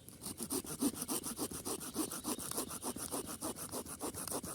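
A folding hand saw rasps back and forth through birch wood in quick, even strokes, close and steady with no talking.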